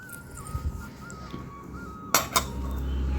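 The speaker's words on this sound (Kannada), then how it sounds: "ಈಗ ಮಿಕ್ಸ್ ಮಾಡ್ತಿದ್ದಾರೆ ನಮ್ಮಮ್ಮ" Cooked rice being mixed in a metal pot, with a few scraping, clinking strokes of a utensil against the pot, close and moderately loud, while a faint whistling tone runs in the background.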